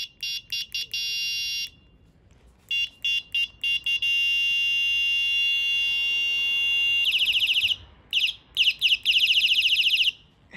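A modified Alpina A5C scooter horn blares loud electronic tones in short repeated bursts, pauses, then a long sustained wail, shifting between several pitches before ending in choppy bursts.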